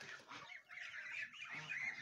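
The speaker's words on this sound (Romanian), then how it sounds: "Aici cei mei sunt gâștele, bobocii de gâscă în a doua serie." Geese and goslings honk in short, nasal calls that overlap in quick succession, faint and somewhat distant, with no talking over them.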